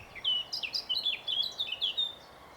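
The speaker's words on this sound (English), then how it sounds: "whoa, black cap." A blackcap calls from branches in a quick run of bright, high chirps and warbled notes, fairly close and clear over a soft outdoor background.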